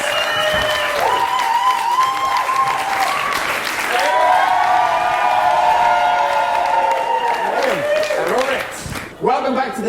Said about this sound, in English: Will you give a big round of applause for our panel one more time?